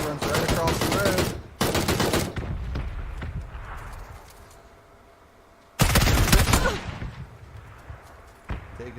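Gunfire in the PUBG battle royale video game: loud, dense bursts of rapid shots, near and harsh, separated by quieter gaps with fainter distant shots, and no talking.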